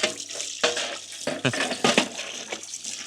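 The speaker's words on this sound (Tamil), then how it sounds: "அப்பா வந்து தண்ணி பிடிச்சிடுவாங்க" Water running steadily from a tap while filling, for watering garden plants in the morning, a continuous splashing flow with shifting gurgles throughout, close and fairly loud.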